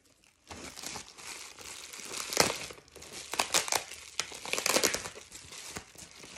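Plastic packaging, including bubble wrap, being unwrapped close up around a small card holder, giving a loud, irregular run of crinkling and crunching rustles with sharp bursts and no voices.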